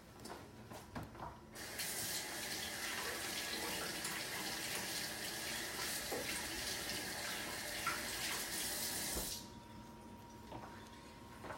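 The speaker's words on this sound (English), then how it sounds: "gotta wash my hands" A kitchen sink tap runs in a steady rushing stream for about eight seconds while hands are washed after handling raw chicken, with a few clinks before it starts and after it stops.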